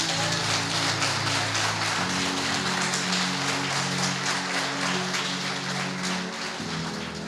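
A big round of applause from a church congregation, a dense continuous wash of clapping with a steady musical drone underneath.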